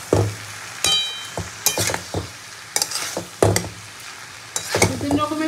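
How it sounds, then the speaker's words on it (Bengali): Vegetable fried rice being stirred and mixed in a hot pan with cooked rice, giving soft sizzling frying under repeated scraping and stirring strokes with occasional utensil knocks, close and fairly loud with no talk. "এবার আমি ভাতটা দিয়ে দেবো। হাফ ভাতটা তো আমি দিয়ে দিয়েছি। এবার ভালো করে মিশিয়ে নেবো।"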